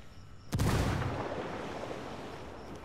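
A grenade blast in a military shooter video game lands at about half a second, a loud close boom that rolls into a long, slowly fading rumble and debris wash.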